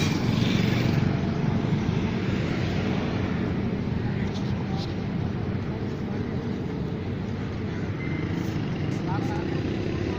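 Steady outdoor traffic along the Ferozpur Road bypass, a continuous broadband rumble of passing vehicles with no single pass standing out, heard at moderate distance with occasional voices.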